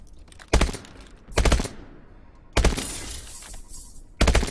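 Gunfire in Call of Duty Advanced Warfare: four separate loud bursts of rapid shots with a sharp, crackling edge and short quieter gaps between them, with no talking.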